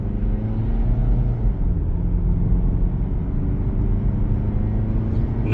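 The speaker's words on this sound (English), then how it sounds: "Now we're going to go up a little bit of a hill here. Let's just see how the acceleration goes." A 2024 Hyundai Tucson Preferred climbs a hill under acceleration, heard from inside the cabin as a steady, loud low engine and road rumble with no talking.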